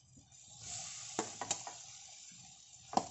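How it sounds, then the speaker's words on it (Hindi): Mixed vegetables go into fried masala in a pan and sizzle quietly, a faint hissing fry with a couple of soft clatters and a sharper knock near the end, heard up close without any speech. "मसाला भून चुका है, अब इसमें ये सब्जी डाल देंगे।"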